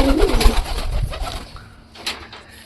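A pet pigeon coos in soft, low, rounded calls close by, a short burst at the start followed by quieter murmurs and a faint flutter near the end.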